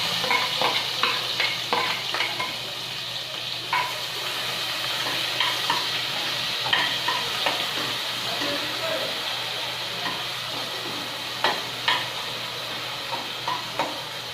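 Onions frying in a pan, a constant moderate sizzle with a steady hum beneath and repeated sharp clicks of a spatula stirring, while someone talks faintly at times.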